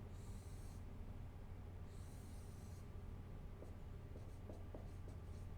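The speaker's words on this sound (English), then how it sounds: "We sketch our curve." A pen sketching a normal curve on paper, with scratchy marks in short bursts near the microphone over a steady low room hum.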